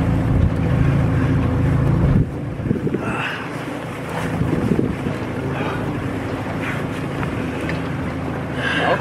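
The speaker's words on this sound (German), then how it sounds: "Und dann wollen wir mal lostuckern, ne?" A fishing boat heading out to sea for cod, its engine rumbling steadily and close while wind buffets the microphone and water splashes along the hull.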